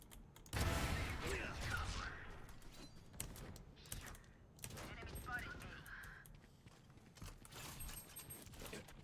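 Gunfire from the Valorant tactical shooter during a ranked match, with bursts of shots and weapon handling clatter scattered across the clip, fairly faint under in-game effects.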